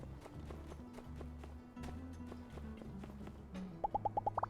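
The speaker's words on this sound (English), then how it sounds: "Oh, the horse is now fatigued." Horse hooves clip-clopping in the video game My Time at Sandrock, a steady rhythmic trot of soft thuds over a low game music bed, ending with a quick run of bright chime tones.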